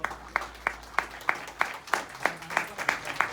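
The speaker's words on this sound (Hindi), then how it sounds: "आप सबकी जोरदार तालियां" Regular single hand claps, about ten evenly spaced sharp hits, fairly close at an honouring ceremony for a new gold leader at a wellness franchise opening in Haldwani, Uttarakhand, with faint murmur beneath.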